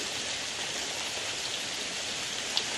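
Steady rain falling on an evening, a dense even hiss that holds throughout with no talk, one faint tap near the end.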